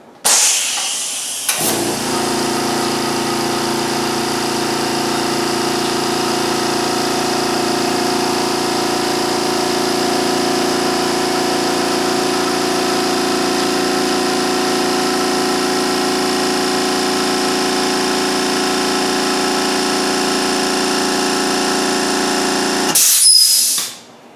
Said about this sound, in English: This compressor has about 100 psi regulated.